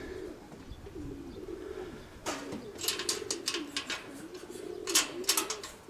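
Pigeons coo in a low repeated pattern on a loft rooftop, joined by bursts of wing flapping or fluttering as the birds are released; no talk.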